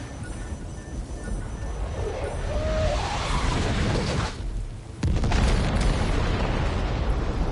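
Weapon fire and an explosion in the video game Death Stranding 2, a heavy rumbling boom with a roaring blast that dips briefly, then a second loud burst that sustains to the end.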